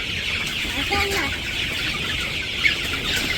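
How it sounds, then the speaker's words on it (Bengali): Growing village chickens cluck now and then in a short burst over constant outdoor background noise, moderately near, with no other clear sounds standing out. "আমাদের মুরগিগুলা অনেকটুকু বড় হয়ে গেছে"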